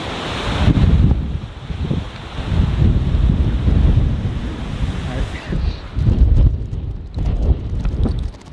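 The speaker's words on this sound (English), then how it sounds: "We're in a windstorm right now, and this is the strongest wind I felt in the state of Oregon" Strong windstorm gusts on the Oregon coast batter the microphone in loud, uneven bursts, with crashing surf roaring underneath and no one speaking.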